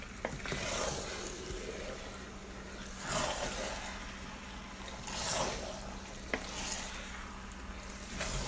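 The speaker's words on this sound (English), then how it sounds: "I'm just going to add my fish. Stir gently." A spoon stirs fish into afang soup in a pot, with gentle scraping swishes repeating every couple of seconds over a faint simmer, quiet and close.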